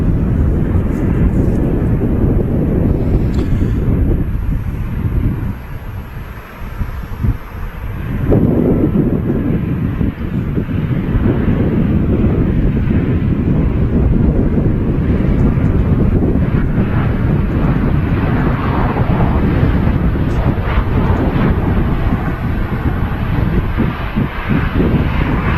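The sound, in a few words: Ryanair airliner passing at Manchester Airport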